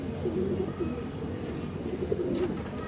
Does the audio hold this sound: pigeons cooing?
yes